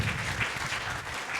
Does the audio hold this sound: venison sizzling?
no